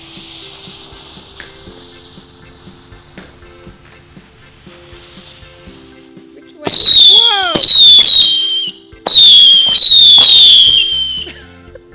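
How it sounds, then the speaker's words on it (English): Consumer fireworks for a New Year celebration go off in three loud bursts of crackling, hissing and popping, each lasting about a second or two. Quiet background chatter comes before them and a short exclamation follows. "Alright guys, so let's do more fireworks"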